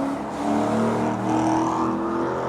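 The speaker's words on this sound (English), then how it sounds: "there's a Porsche that just drove past. You might have heard it in the background. A very powerful Porsche." A powerful Porsche drives past in the background, a steady engine hum and whir that swells slightly and fades, continuous throughout.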